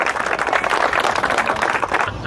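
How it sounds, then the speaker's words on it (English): Crowd applause at a drift competition awards ceremony for a hard charger prize winner, dense steady clapping with some cheering filling the whole moment, fairly loud and close. "Round of applause for Fraser!"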